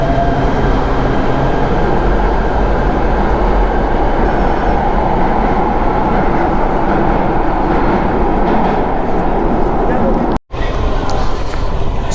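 A Los Angeles Metro Red Line subway train at 7th Street/Metro Center station fills the space with a loud, continuous rumbling roar that cuts out for a moment before resuming.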